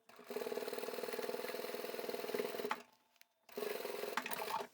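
A sewing machine top stitches shut the opening on a handbag, running in two steady, rapid bursts separated by a short pause, close and alone with no talk.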